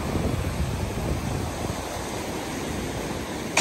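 Ocean waves wash onto Húsavík beach at high tide, a continuous broad rush of surf mixed with wind buffeting the microphone, steady and fairly loud with no voices.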